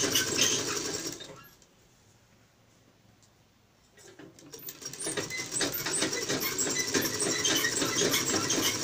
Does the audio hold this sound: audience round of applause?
no